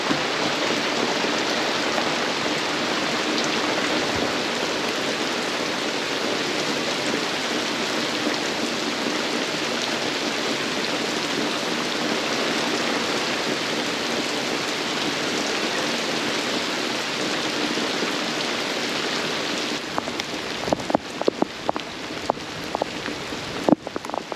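Heavy rain and a wind storm beat down on a sailboat anchored at Huahine in the Leeward Society Islands, a dense, loud, unbroken hiss for most of the stretch, then sharper drips and knocks near the end.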